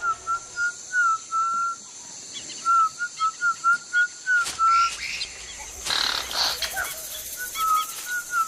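Whistled speech of the Pirahã people in the Amazon rainforest: a series of short, clear tonal whistles in rising and falling phrases, fairly close, with forest ambience and a burst of rustling partway through.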